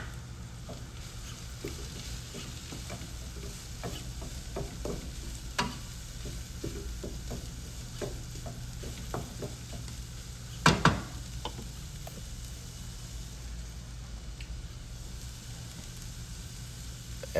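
Chopped tomato stirred into an oiled pan, a steady sizzle beneath repeated light scrapes and taps of a utensil, with one louder clatter midway and no talk.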